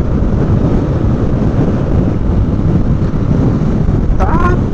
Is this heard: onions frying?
no